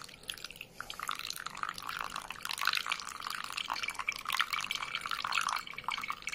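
Water poured while brewing coffee on an Acaia Pearl 2021 coffee scale, a continuous splashing, trickling stream with small drips, steady and fairly close for several seconds.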